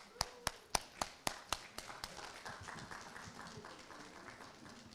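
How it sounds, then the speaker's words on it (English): Audience applause at a nursing white coat ceremony, opening with a handful of loud, sharp individual claps close by, then settling into a softer, steady wash of clapping from the crowd. "Give yourselves a round of applause."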